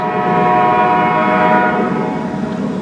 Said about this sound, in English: the horn of a railroad train sounds